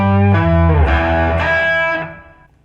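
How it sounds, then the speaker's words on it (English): A Fender Elite Telecaster played through a TC Electronic Sub 'n' Up Mini octave pedal with distortion rings out in several loud, sustained chords that ring and then fade away at the end. "Here's some distortion."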